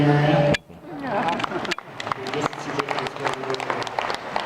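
An audience at a lecture breaks into broad, dense clapping right after a brief spoken phrase, the applause filling the rest of the clip at moderate volume.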